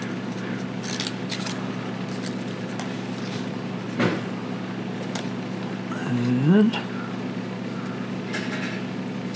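Scissors trim a water slide decal meant for a guitar, cutting a strip off the bottom. Brief, close snips stand out over a steady background hum, with a short squeaky scrape partway through.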